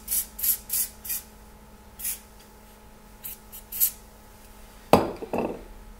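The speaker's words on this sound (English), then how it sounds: "So I'm gonna spray it again." Several short hissing spray bursts in a quiet room, followed by a louder, breathy blowing sound near the end.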